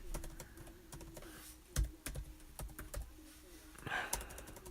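Fast typing on a computer keyboard, a steady run of close, crisp key clicks with a few heavier thumps, heard alone at low level.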